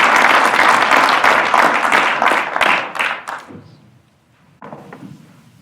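An audience claps loudly to welcome a speaker in Calgary, Canada. The dense applause fades over about four seconds, followed by a brief thump and quieter room noise.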